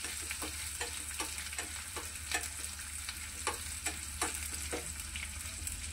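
Onions frying in a pan while being stirred, a steady sizzle with regular scraping stir strokes, close and alone without speech.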